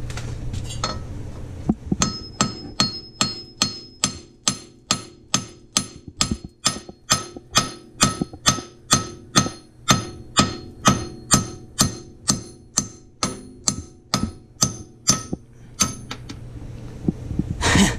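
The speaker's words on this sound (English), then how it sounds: "take your hammer and just pound the studs until they come out" A hammer pounds wheel studs out of a 2002-2007 Subaru WRX hub, about thirty sharp metallic strikes in a steady, even rhythm, each ringing briefly and heard up close with no talk.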